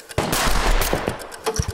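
Gunshot sound effects chosen for a practice film edit: a rapid, loud burst of overlapping shots like machine-gun fire, dense and continuous for over a second with a few sharper cracks near the end, no voices.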